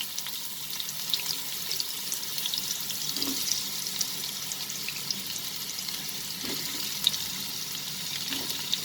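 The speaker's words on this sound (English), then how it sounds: "So first we are going to fry the potatoes. So reduce the flame and add the potatoes." Potato pieces fry in hot oil in a pan for a prawn and potato curry, giving a steady, fairly quiet sizzle with a few soft bumps and no talking.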